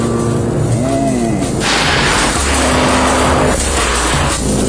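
Ford Focus ST engine giving a loud, deep bellow as the throttle is pressed, with a rising broadband surge and a second swell of revs, steady and close throughout.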